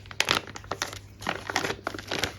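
A very thick resealable plastic bag from a diamond painting kit being opened at one end, giving close, loud bursts of crinkling and crumpling plastic in several uneven rustles over a low steady background hum, with no talking.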